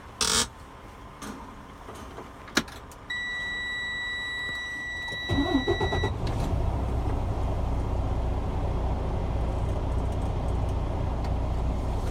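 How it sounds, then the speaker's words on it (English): A Class A truck is started during an air brake pre-trip check: a high dashboard warning buzzer sounds for several seconds, then the engine turns over and settles into a steady low idle rumble, with no speech. "I'm now going to safe start the truck."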